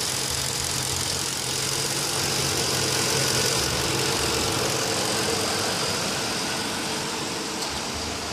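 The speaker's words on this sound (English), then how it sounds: "with the engine running with ethane" A Ford F150 pickup with a 4.6 Triton engine runs on ethane through a bi-fuel system, a steady, even idle hum held close and unchanging throughout, with no voices.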